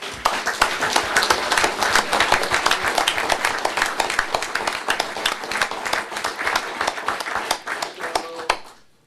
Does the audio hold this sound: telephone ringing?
no